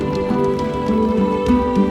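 Heavy rain falls on a camping tent with a mesh top in the hills of Himachal Pradesh, a dense continuous patter drumming on the fabric, loud and close with no voices.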